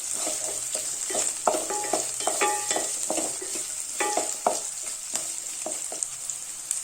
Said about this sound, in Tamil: இதோட ஒரு 10 பல் பூண்டு, பச்சை மிளகாய் 2 கீரி போட்டுக்கோங்க. இதையும் நல்லா வதக்கிக்கலாம்.